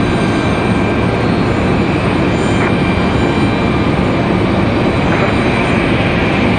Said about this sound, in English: that Delta's coming in from Minneapolis